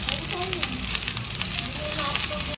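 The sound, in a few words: carrots and cabbage frying in a pan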